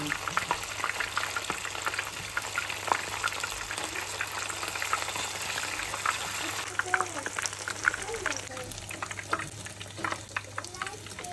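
Shrimpless hekeng fries in a pan with a steady, close sizzle and scattered oil crackles, with voices faintly in the background.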